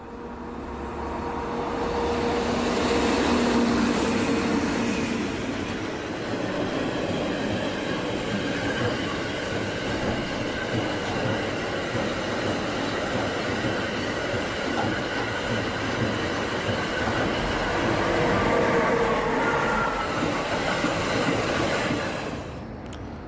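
DB class 140 electric locomotive of the Elbe-Weser-Bahn hauling a freight train, a loud, continuous rolling roar of wagons on rails passing close by for over twenty seconds, rising at the start and cutting off at the end.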